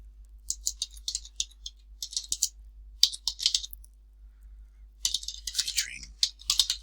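Computer keyboard being typed on in bursts, crisp close clicking keystrokes with short pauses between runs, no voice over it.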